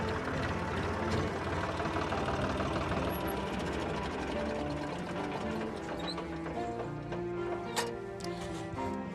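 A farm tractor engine runs steadily and close by, giving a continuous mechanical clatter with a ticking, rattling rhythm that stays loud throughout.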